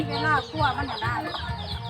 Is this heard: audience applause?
no